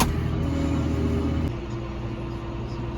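A heavy tractor engine rumbles close by near cows, loud at first and then dropping to a lower, steadier drone partway through.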